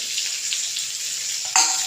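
Spices frying in a pan for begun paturi, a Bengali eggplant dish, with a steady close sizzle and a brief stirring clatter and louder burst near the end.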